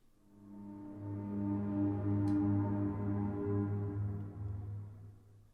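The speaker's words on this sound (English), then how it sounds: "If I play it without effects enabled, you'll notice that it is quite heavy and drone-like." Heavy, dry drone-like ambient texture with no EQ or reverb, thick low sustained tones swelling in, holding steady and fading slightly, with nothing else heard.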